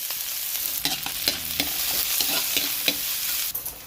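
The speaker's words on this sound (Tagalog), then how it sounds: "mag-isa na tayo ng bawang sibuyas" Garlic and onion sauté in a pan for a Filipino bulanglang vegetable dish, with a steady sizzle broken by a handful of scraping stirs of the spatula, close and moderately quiet.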